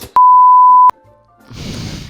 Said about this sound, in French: On va mettre un bip